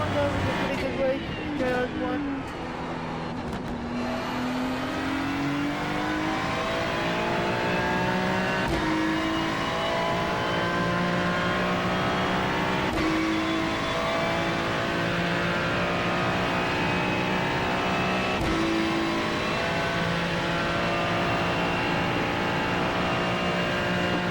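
Ferrari Challenge race car engine in iRacing at Interlagos drones loudly and continuously, revving up after a brief dip and holding a steady high-pitched whine with periodic gear-shift breaks, close and dominant throughout.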